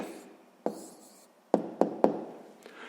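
A pen writes an answer on paper during a sixth-grade maths exercise. A faint scratching is broken by several sharp taps and clicks of the pen against the desk.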